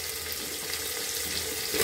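Steady hissing sizzle of potatoes and onions frying in a pan, continuous and close, with no voices.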